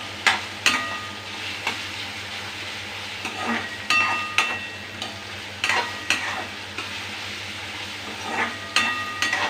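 Chopped onion and tomato sizzle steadily in a hot pan while a spoon stirs them, with repeated sharp scraping clicks against the metal over the continuous close frying hiss.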